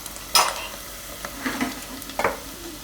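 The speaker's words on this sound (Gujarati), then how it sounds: "તો આને થોડીક વાર આપણે પકાવી લીધી ડુંગળીને." Onions frying in oil in a pan while cooking Gujarati chhaas bhaat, heard as a few quick stirring scrapes over a low, steady sizzle, close and fairly quiet, with no talking.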